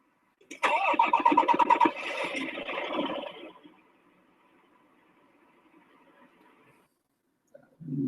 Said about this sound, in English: start the engine.